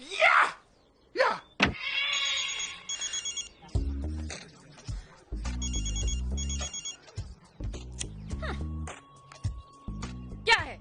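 A telephone rings in short repeated electronic bursts, several rings spaced across the scene, between stretches of lower tones and brief background sounds.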